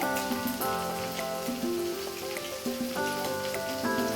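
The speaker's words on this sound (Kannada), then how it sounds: "ಈ ಟೊಮ್ಯಾಟೋನ ಒಂದು ಐದು ನಿಮಿಷ ಚೆನ್ನಾಗಿ ಫ್ರೈ ಮಾಡ್ಕೋಬೇಕಾಗತ್ತೆ" Tomatoes fry in a hot pan for fish curry, giving a dense, steady close sizzle with crackling spatter throughout and no talk.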